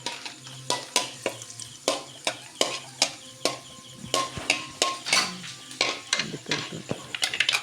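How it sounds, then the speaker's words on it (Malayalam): Raisins and cashews frying in a pan for chicken curry, with a faint sizzle under repeated sharp clinks and scrapes of a spoon stirring against the metal in an irregular rhythm. "അണ്ടിപ്പരിപ്പും കൂടി ഇട്ട് വറുത്ത് കോരി എടുക്കുകയാണ്"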